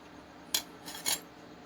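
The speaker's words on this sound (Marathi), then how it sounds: "इथे मी पूर्ण पाक घालून घेतला यात आणि आता हे छान असं मिक्स करून घेऊ" A spoon scrapes and clinks against a pan while sugar syrup is stirred into a cooled, grainy mohanthal mixture, giving a few short metallic strokes up close in an otherwise quiet kitchen.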